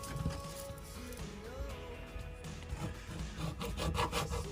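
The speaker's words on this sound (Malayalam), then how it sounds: "അപ്പോൾ നമുക്ക് ആക്സോ ബ്ലേഡ് വെച്ച് ഇതൊന്ന് കട്ട് ചെയ്തെടുക്കാം." A hacksaw blade cuts through a coconut shell being rounded off for a plant pot, steady close back-and-forth rasping strokes running throughout at a fairly even loudness.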